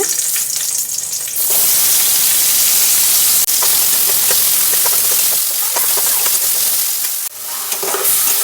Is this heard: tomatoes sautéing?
yes